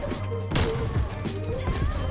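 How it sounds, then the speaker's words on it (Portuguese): Gunfire in an online shooter video game with a sniper in play: one sharp shot cracks out amid ongoing game noise and scattered rapid impacts. "Ah, errei o tiro."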